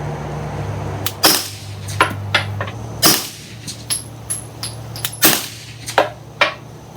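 Suppressed rifle shots at an outdoor shooting range, each with a sharp action clack and a bullet striking a backstop about 100 yards away. About a dozen crisp cracks come at irregular intervals, with no talk.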